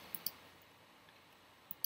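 A computer mouse clicks faintly while video is edited in iMovie: two quick clicks close together, then a lone click after a pause, in an otherwise quiet room.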